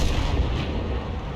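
A tank's premium HE shell fires in World of Tanks, a dense, loud booming blast filling the short moment with rumbling low-end energy and no talk.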